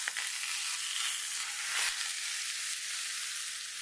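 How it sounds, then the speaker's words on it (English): Hot ghee poured over yogurt in a hummus fatteh, giving a loud, continuous close-up sizzle with a brief crackling surge midway, with no voices. "the sizzling that happens when the ghee is just heated and poured over the yogurt, creating this sound"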